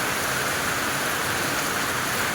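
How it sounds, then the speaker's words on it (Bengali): Sudden heavy rain falls in a dense, even hiss with no pauses, close and fairly loud. "কোনো রকমে বাসনগুলো ধুতে না ধুতেই বৃষ্টি চলে আসলো।"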